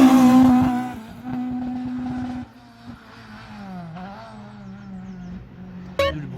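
Rally car at full throttle during a hill climb, a loud intake roar rising in pitch and then fading as it pulls away, with a brief sharp burst near the end.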